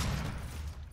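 Gunfire in a competitive multiplayer shooter match, a dense low booming burst of shots that stays loud for about a second before easing off slightly.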